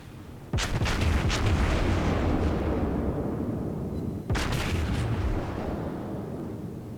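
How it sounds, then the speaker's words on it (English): Naval gun salvo in the World of Warships game, fired by the USS South Carolina battleship: two heavy booming blasts a few seconds apart, each with a rolling rumble that carries on beneath them, loud and with no voices. "those last 2 shots of that salvo went wide"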